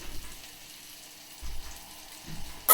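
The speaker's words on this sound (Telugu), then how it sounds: "మనం కలుపుకోవాలి అడుగంటకుండా వేసుకోవాలన్నమాట రెండు నిమిషాలు ఏగాలి" Ivy gourd (tindora) frying in a pan, with a soft continuous sizzle and a couple of low stirring scrapes from the spatula, ending in a brief louder clatter.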